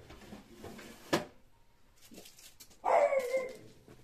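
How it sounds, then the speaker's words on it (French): An indoor pet dog giving a sharp single bark, then a longer whining yelp a couple of seconds later, heard nearby in a quiet house. "Ça, c'est mon chien, parce que les enfants arrivent de l'école."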